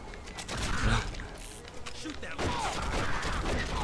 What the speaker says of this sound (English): Damn, I'm shooting Paul!